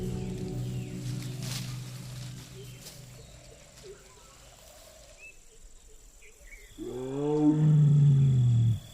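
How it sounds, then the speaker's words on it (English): Wild tiger in India roaring, a deep, loud, drawn-out roar rising near the end after a quieter stretch of low rumbling and faint insect-like background hum. "His roars advertise his whereabouts to females, but also warn other males to stay away."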